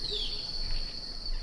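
Ground crickets trill in a continuous high-pitched buzz, steady and close, with a soft outdoor background, in Costa Rica.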